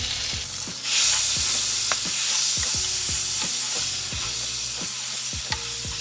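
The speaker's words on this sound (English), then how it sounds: "So you're just going to mix and stir this down until it turns into a nice liquid." Butter melts into a homemade Alfredo sauce in a hot pan, with a loud, steady sizzle and regular, rhythmic scraping stirs close by and no talking.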